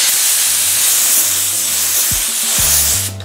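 Steady broadband hiss of a spray gun applying clear coat over red pearl paint, loud and close, continuous throughout with a brief trailing off at the end.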